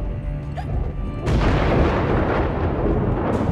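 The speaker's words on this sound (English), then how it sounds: "Oh man, that thunder is crazy." Thunder in the video game Alice: Madness Returns, a loud rolling rumble that swells suddenly partway through and continues as a sustained, heavy roar with no talking.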